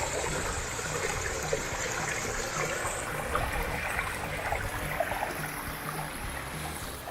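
Water runs through a man-made rock stream built along a 350-foot stretch in Kentucky, giving a continuous, close babbling and trickling flow with small splashes over stones at a moderate, even level.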